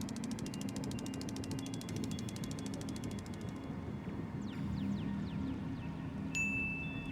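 A spin wheel whirs with a quick train of rapid clicks that slows and stops after a few seconds, then a few sparse ticks follow, quiet against a low background hum.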